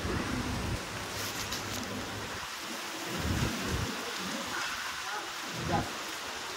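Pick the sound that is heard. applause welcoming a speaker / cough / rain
rain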